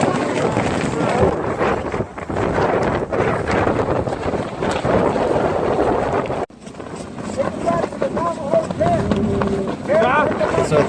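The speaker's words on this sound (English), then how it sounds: "The wind is still blowing." Wind gusts hard through a blizzard at Standing Rock where veterans carry a US flag, a steady roaring buffet on the microphone under continuous talking, cutting out briefly partway through.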